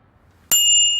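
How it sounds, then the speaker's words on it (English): A single bright bicycle bell ding rings out of near silence, then its metallic tone lingers and slowly decays. "Oh, it rang its bell for me."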